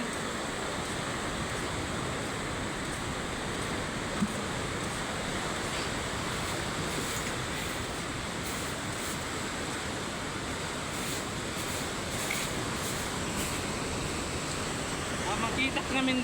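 Sea waves washing onto the shore, a continuous broad rushing surf noise at a fairly even level, with faint wind and soft background sounds.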